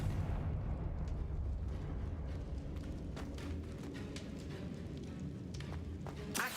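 Confringo explosion spell in a Hogwarts video game, a dense rumbling blast that rolls on continuously with crackling debris, ending in a sharp burst.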